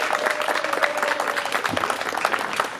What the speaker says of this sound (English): please keep that applause going